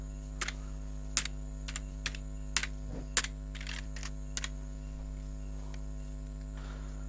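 Computer keyboard typing in Photoshop, heard as scattered bursts of sharp key clicks over a steady low electrical hum, with pauses between short runs of keystrokes.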